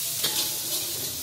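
Nasi goreng frying and being stirred in a pan at night, a steady loud sizzle with scraping stir strokes, close and continuous, with no talking.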